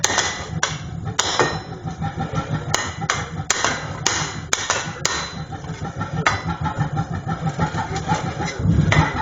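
Metal pipe being hammered while bent, sharp ringing blows landing irregularly over a steady engine-like roar, some strikes glancing off target; no talking.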